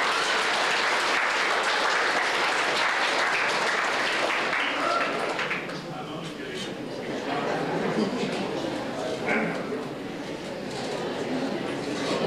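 A crowd audience at a public gathering in Zanesville, Ohio bursts into loud, sustained applause and cheering that fills the whole stretch, dipping slightly midway before swelling again.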